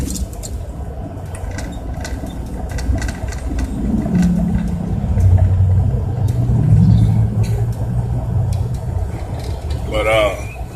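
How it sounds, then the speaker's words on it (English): Antique cars pass by with a rumbling engine drone that swells and fades over several seconds, mixed with traffic noise, and a voice is heard briefly near the end. "there's some more of them antique cars"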